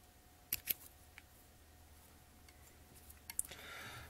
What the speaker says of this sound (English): Just give that bit of a trim off there.